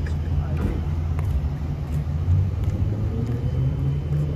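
A 1993 Honda CR125 two-stroke dirt bike with a slipping clutch and a coolant leak idles steadily in a shop, a low continuous engine drone running underneath without stopping.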